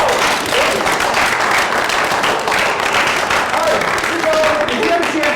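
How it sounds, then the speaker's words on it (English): Audience applause after a hypnosis show, a dense steady wash of many hands clapping throughout, loud and close, with crowd voices mixed in. "Let's give them all a round of applause."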